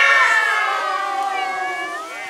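Several children's voices mimic a cat's meow inside a tunnel under a railway, one long, drawn-out wavering cry, loud and close and echoing, with no other sound.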